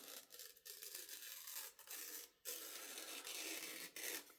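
A sharp Preyert 2 knife with a titanium handle and M390 steel blade slices through a piece of paper, making a faint, continuous rasping scrape with a few brief pauses.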